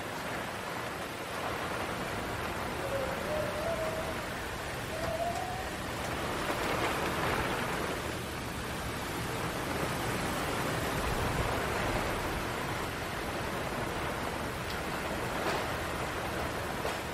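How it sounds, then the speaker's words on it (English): Steady heavy rain roars outside with broad, even hiss and gusting wind, continuous and fairly loud, no voices. "it is like storming outside. It's really windy and a lot of rain,"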